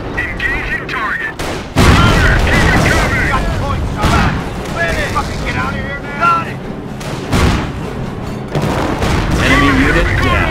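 Gunfire and explosions in the video game Company of Heroes: loud booming blasts and rapid shots in bursts, with shouted voices cutting in between the heavy impacts.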